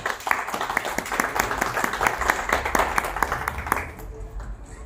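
Applause from a modest audience at a literary reading circle celebrating a city anniversary, a steady round of clapping with a few sharp individual claps that stops abruptly near the end.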